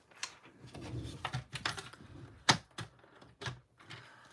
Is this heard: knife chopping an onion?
no